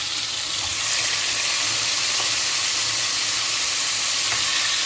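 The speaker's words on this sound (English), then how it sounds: "so I'm going to add in the oxtail here. So saute them a little bit." Oxtail pieces sautéing in a pot for Jamaican stew peas, giving a steady, loud broadband sizzle with faint clicks of the meat shifting and no talking.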